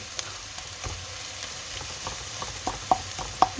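Ginger and garlic sauté in a pan with a continuous close sizzle, and light ticks and taps of a spatula grow sharper toward the end.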